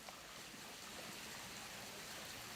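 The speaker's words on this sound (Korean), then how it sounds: "곳곳에 만들어진 분수 정원은 헤네랄리페를 물소리로 가득 채웠다" Water flowing continuously in a fountain garden at the Generalife in Granada, Spain, a steady, even splashing rush with no voices.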